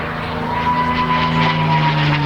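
A Spitfire from the Norwegian Spitfire Foundation flies over an RAF Cosford airshow crowd, its propeller engine a steady, fairly loud drone throughout.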